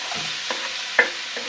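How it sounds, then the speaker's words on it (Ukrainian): Steady frying sizzle of onion in a pan with a few soft clicks of a utensil stirring, close by and without speech. "Поки смажиться цибулька"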